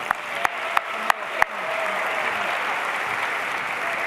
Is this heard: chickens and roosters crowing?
no